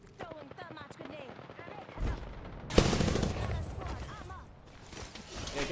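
Gunfire and explosions in a ranked Apex Legends match, loud bursts and a sharp blast rising mid-clip over game sounds, with a player talking throughout.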